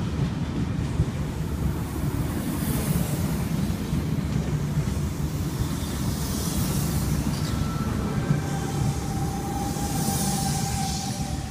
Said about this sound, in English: we've got V48 departing platform number 1 for a Sydney Terminal service